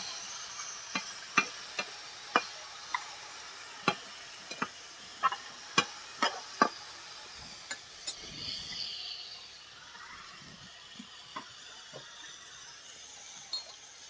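Chopped wood apple is stirred into ginger and garlic frying in a pan. A utensil scrapes and clinks in a steady run of sharp taps over a soft sizzle, then settles into quieter frying.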